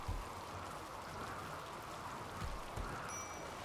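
Rain falls steadily in the RimWorld video game, a soft, continuous hiss of drops with a few faint thumps, quiet and even throughout.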